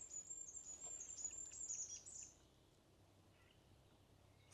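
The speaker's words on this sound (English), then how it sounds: "There's a willow warbler and a Chaffinch." A thin, high songbird trill, from a willow warbler or chaffinch, rings out for about two seconds, followed by faint distant chirps over quiet outdoor ambience in Norway.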